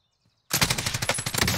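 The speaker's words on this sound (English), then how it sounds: "Taking fire." Rapid automatic gunfire in Call of Duty Modern Warfare Warzone, a loud burst of closely spaced shots that erupts suddenly after near silence and keeps rattling in a fast, uneven rhythm.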